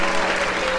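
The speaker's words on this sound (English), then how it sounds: "we'll clap it up for that." A short burst of audience clapping, dense and lively, heard close and fairly loud for under a second.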